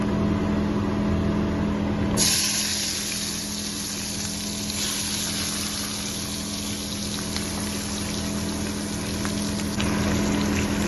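Green capsicum drops into hot oil with Kashmiri chilli powder and spices in a pan for capsicum sabji. A loud, broad sizzle steps up partway through and then carries on as a steady hiss, with no voice.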